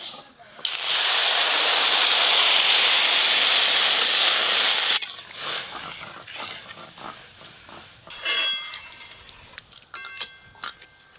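Water poured into a pan of fried lentil dal made with greens in a rural kitchen sets off a loud, steady sizzling hiss for several seconds, which then cuts off, leaving quieter clatter and bubbling.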